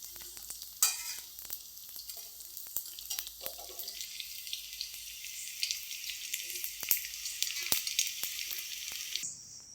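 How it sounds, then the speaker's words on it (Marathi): Edible gum (dink) frying in hot oil for laddoos gives a continuous bright sizzle close up, with scattered spatula scrapes and stirring knocks against the pan throughout. "हे बघा हा डिंक असा सगळा डिंक तळून घ्यायचा"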